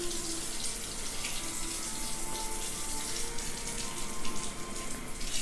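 Water running steadily into a kitchen sink while someone splashes and plays in it, a dense continuous rush with light irregular splashing, no speech.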